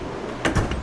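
A workbench drawer slides open in a garage, a short rumbling scrape followed by a couple of knocks, close by over low background noise.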